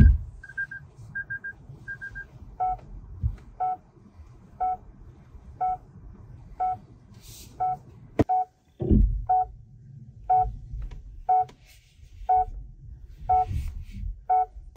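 Alert chimes from a Lexus RZ 450e electric luxury SUV: a short run of quick tones, then a long steady series of evenly spaced double chimes, clear and close over a low cabin hum.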